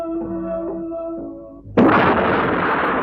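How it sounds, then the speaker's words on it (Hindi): A single heavy cannon blast, the famous Ghangarj cannon of Jhansi firing shells at the British army in 1858. Sustained tones give way to a sudden loud boom and a long roaring, rumbling tail. "झांसी की प्रसिद्ध तोप घनगरज ने अंग्रेजों की सेना पर गोले बरसाने शुरू किए"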